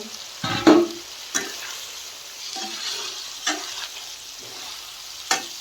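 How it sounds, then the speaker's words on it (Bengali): Rupchanda fish frying in oil with a cooked-down spice paste of turmeric, sizzling steadily while a spatula stirs it, with a few sharp scrapes and clatters against the pan close by. "আর এর ভিতরে মাছটা দিয়ে নেড়ে চেড়ে নেব"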